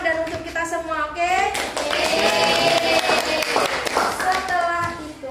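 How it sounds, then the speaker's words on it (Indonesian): A school class at a state senior high physics lesson claps together in a burst of applause lasting several seconds, with children's voices chattering over and around the clapping. "kita beri aplaus dulu"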